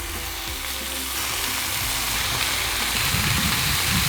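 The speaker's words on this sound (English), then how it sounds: "And now it's time to get our third snack on the griddle." Sweet and spicy bacon sizzles on a hot griddle with a steady, loud, close crackling hiss and occasional low pops, heard alone without any talk.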